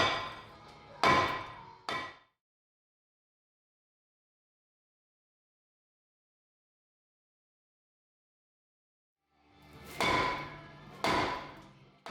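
A big hammer pounds seized, rusted front brake rotors on a Ford F250 hub soaked with penetrating oil, landing three ringing metallic blows, a long silence, then two or three more heavy strikes.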